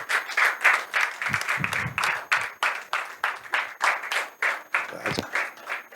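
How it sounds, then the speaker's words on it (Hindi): Church audience clapping at a Good Friday service, a loud rhythmic burst of applause in even beats, with a few brief low thumps partway through. "एक बार जोरदार ताली।"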